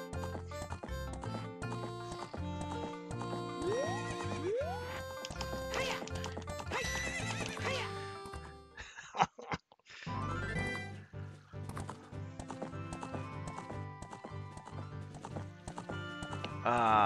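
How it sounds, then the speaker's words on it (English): A horse gallops and neighs in the video game The Legend of Zelda: Ocarina of Time, with rhythmic clip-clop hooves over a dense music track, a brief break midway, then galloping resumes. "What a good horse."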